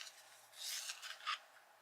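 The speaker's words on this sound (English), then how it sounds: "I need to sharpen this. I've got my Tagal sharpener in here now." A pencil grinds briefly in a Tagal sharpener, giving a quiet, close rasping rub in two short bursts with no talking.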